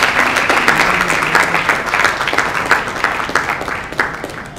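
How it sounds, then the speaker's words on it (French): An audience at a certificate award ceremony at a hotel in the DRC applauds loudly, steady crowded clapping with distinct individual claps and a brief murmur of voices underneath. "Est-ce qu'on peut applaudir encore une fois?"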